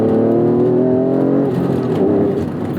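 A 1992 Acura NSX engine pulls hard under acceleration, a loud close rising mechanical tone with strong harmonics that climbs steadily before easing off near the end, no voices.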